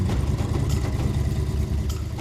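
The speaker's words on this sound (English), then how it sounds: "The truck is running!" An old truck engine idles roughly after sitting unused for a long time and burning oil, a steady, low, rumbling drone with slight pulsing, close and loud throughout.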